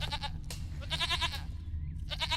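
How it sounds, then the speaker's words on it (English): Goat in The Witcher 3 video game bleating several times in quick wavering bursts, close and clear over a low ambient hum. "Here, goat. Here, princess."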